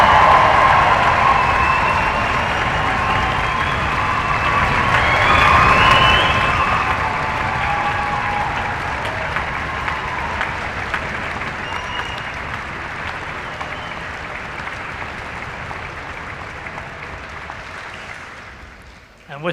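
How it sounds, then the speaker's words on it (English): A graduation audience at Caird Hall in Dundee breaks into loud, sustained applause with cheering, hollering and stamping, a dense roar of clapping that swells early on and then slowly fades toward the end. "kick the ceremony off with a really big Dundee cheer"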